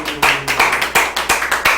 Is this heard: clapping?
yes